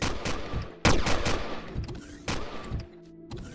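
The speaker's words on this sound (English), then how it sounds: "Classic turret corridor trap." Sentry turrets in a corridor trap in the video game Empyrion firing bursts of gunfire, sharp repeated shots with a heavy blast near the start and more volleys following.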